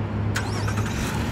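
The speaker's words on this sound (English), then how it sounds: "Now the vehicle has turned on" A 2016 Nissan Maxima S engine, started by remote start, settles into a steady low hum after a short click near the start.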